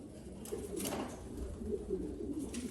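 Soft pigeon cooing from a loft of racing pigeons, a low murmuring coo repeated steadily at moderate distance over a faint background hum.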